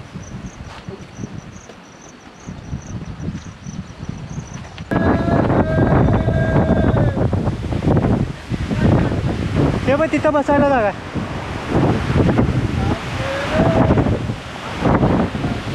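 Strong wind on the Gorakhgad mountain trek buffets the microphone in loud continuous roaring gusts, with crickets chirping in the background and a person speaking briefly.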